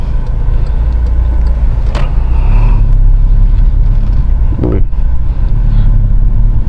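A VW Scirocco engine runs with a steady low rumble that swells slightly as the gas pedal is touched, holding a constant drone throughout with a couple of brief mechanical clunks.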